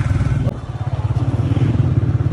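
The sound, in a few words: motorcycle engine being switched on and revving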